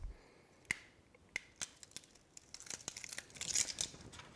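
Cut vinyl decal being weeded from its backing: a few sharp, separate ticks and crackles of peeling film, then a denser crinkling rustle building toward the end, close and fairly quiet.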